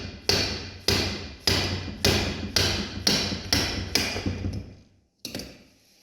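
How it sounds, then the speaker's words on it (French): A mallet strikes metal in nine evenly spaced, ringing taps, driving a crankshaft out of a scooter engine during a bearing replacement, followed by a brief pause and one final tap. "je vais tapoter tout doucement avec le maillet pour sortir le vilebrequin"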